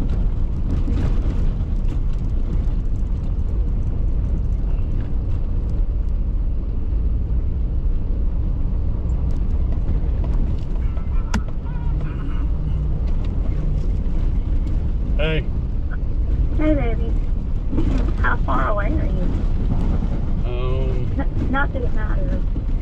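A vehicle rolls slowly along a long, rough dirt road, a steady low rumble and broadband road noise filling the whole stretch, with a few faint thumps and a voice briefly heard.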